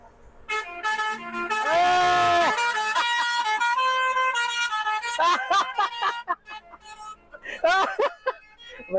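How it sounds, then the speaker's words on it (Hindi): A white truck's musical "nagin" horn plays a long, loud, melodic tune on a mountain road on the Sach Pass route, followed by shorter honks, with people talking and exclaiming over it. "उससे ना नागिन हॉर्न बजवाते हैं।"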